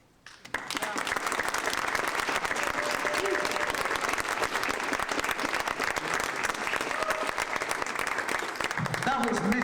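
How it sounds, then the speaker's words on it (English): An audience bursts into sustained, loud applause after a poetry reading, steady clapping from a crowd that starts abruptly and continues without pause. "Make some noise and clap your hands"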